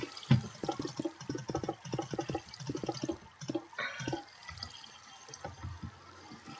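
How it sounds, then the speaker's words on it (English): Water flows in a Minecraft video game with soft, irregular splashing and trickling pulses. It is faint and continuous, with no voices. "You would put water all around."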